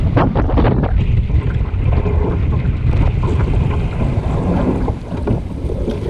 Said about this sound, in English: Battle in the wind.